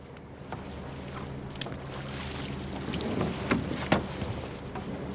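A fishing boat motors out toward the fishing grounds at sea, its engine a steady rumble under rushing wind and water noise, with a few knocks and thumps along the way.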